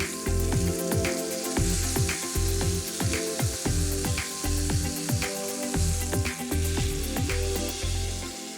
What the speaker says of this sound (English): I'm also going to render that fat off slightly, so we will pop it on its side too